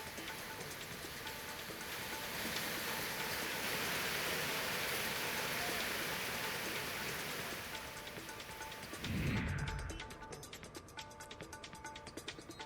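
Evening rain showers in Raigad: a dense, steady patter and hiss that swells slightly mid-way. A short heavier thud lands near the end, then the fall thins out. No voices.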